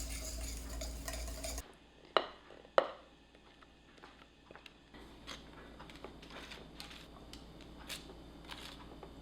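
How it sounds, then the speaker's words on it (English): Lime juice being gently whisked into condensed milk for key lime bars: a run of light, irregular clinks and taps of a whisk against a bowl, with two sharper knocks early on, quiet and close, alone. "Whisk gently until incorporated."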